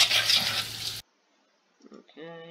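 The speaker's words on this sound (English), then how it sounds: "And I'm going to mix the mincemeat around" Mincemeat being stirred into egg yolks in a bowl, a short wet mixing sound lasting about a second, followed by silence and brief faint noises.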